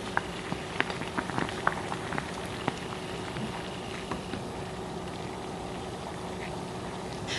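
Water boils hard in a pot while palitaw cooks, giving a continuous bubbling, popping patter with scattered sharp little pops over a soft steady hiss.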